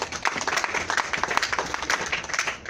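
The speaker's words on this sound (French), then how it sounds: "Applaudissez l'Éternel" A church congregation applauds during a sermon by a pastor. The clapping is dense and steady, a crowd of hands at moderate loudness, with faint voices mixed in.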